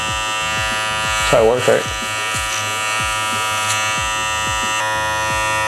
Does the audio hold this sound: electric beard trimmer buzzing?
yes